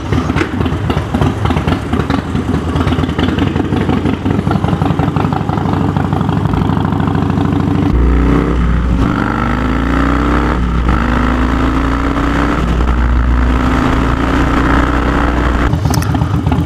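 Motorcycle engine idling steadily on a cool sunny day in Chicago after a fill-up with gasoline, a loud, close, continuous low rumble that deepens and thickens partway through as the revs shift.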